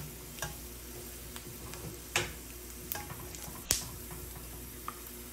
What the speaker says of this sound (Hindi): इसके बाद मैं इसमें 1 कप मूंगफली को ऐड कर रही हूँ। फिर जब ये फ्राई हो जाए